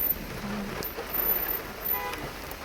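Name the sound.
rain falling in a forest at night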